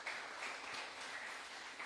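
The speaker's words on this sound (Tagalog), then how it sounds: "palakpak naman po sa Panginoon." Soft, steady applause from a church congregation for the Lord during a midweek fellowship, distant and even, with no voices standing out.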